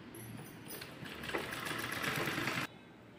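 An electric sewing machine stitches a cotton water bottle cover, a fast steady mechanical whirr that builds slightly in pace and then cuts off abruptly near the end.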